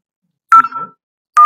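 Dialing tones from an IP phone in a Cisco Packet Tracer network simulation: a short burst of DTMF keypad beeps, then a gap and another beep, all clear and close with no talk over them.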